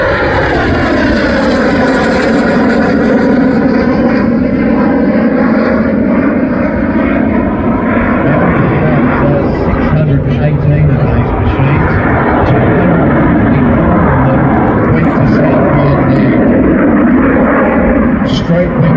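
A Cessna A-37B Dragonfly jet flies a display at the Central Coast Airshow 2024, its loud continuous engine roar sweeping in pitch as it passes, with a commentator talking over it throughout.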